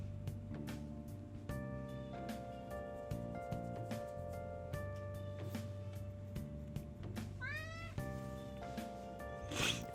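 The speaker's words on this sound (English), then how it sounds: "If you hear my cat, just know he's happy. He's just wanting attention." A pet cat meows repeatedly for attention, its rising and falling cries coming in short bursts over a steady background of electronic game music and sound effects.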